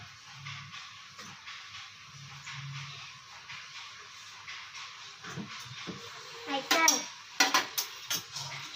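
A pan being set down and handled on a home stove before heating oil to fry papad, with metallic clanks and scrapes that grow louder and sharper toward the end over a low background hiss.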